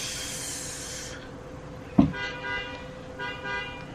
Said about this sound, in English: sorry about the honking